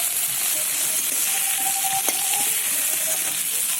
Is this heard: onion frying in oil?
yes